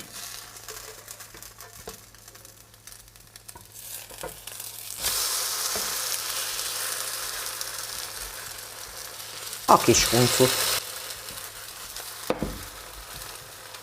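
A thick spiced zucchini pancake fries in a pan, giving a steady close sizzle that swells louder midway, with brief crackles and stirring clatter near the end and a short spoken remark.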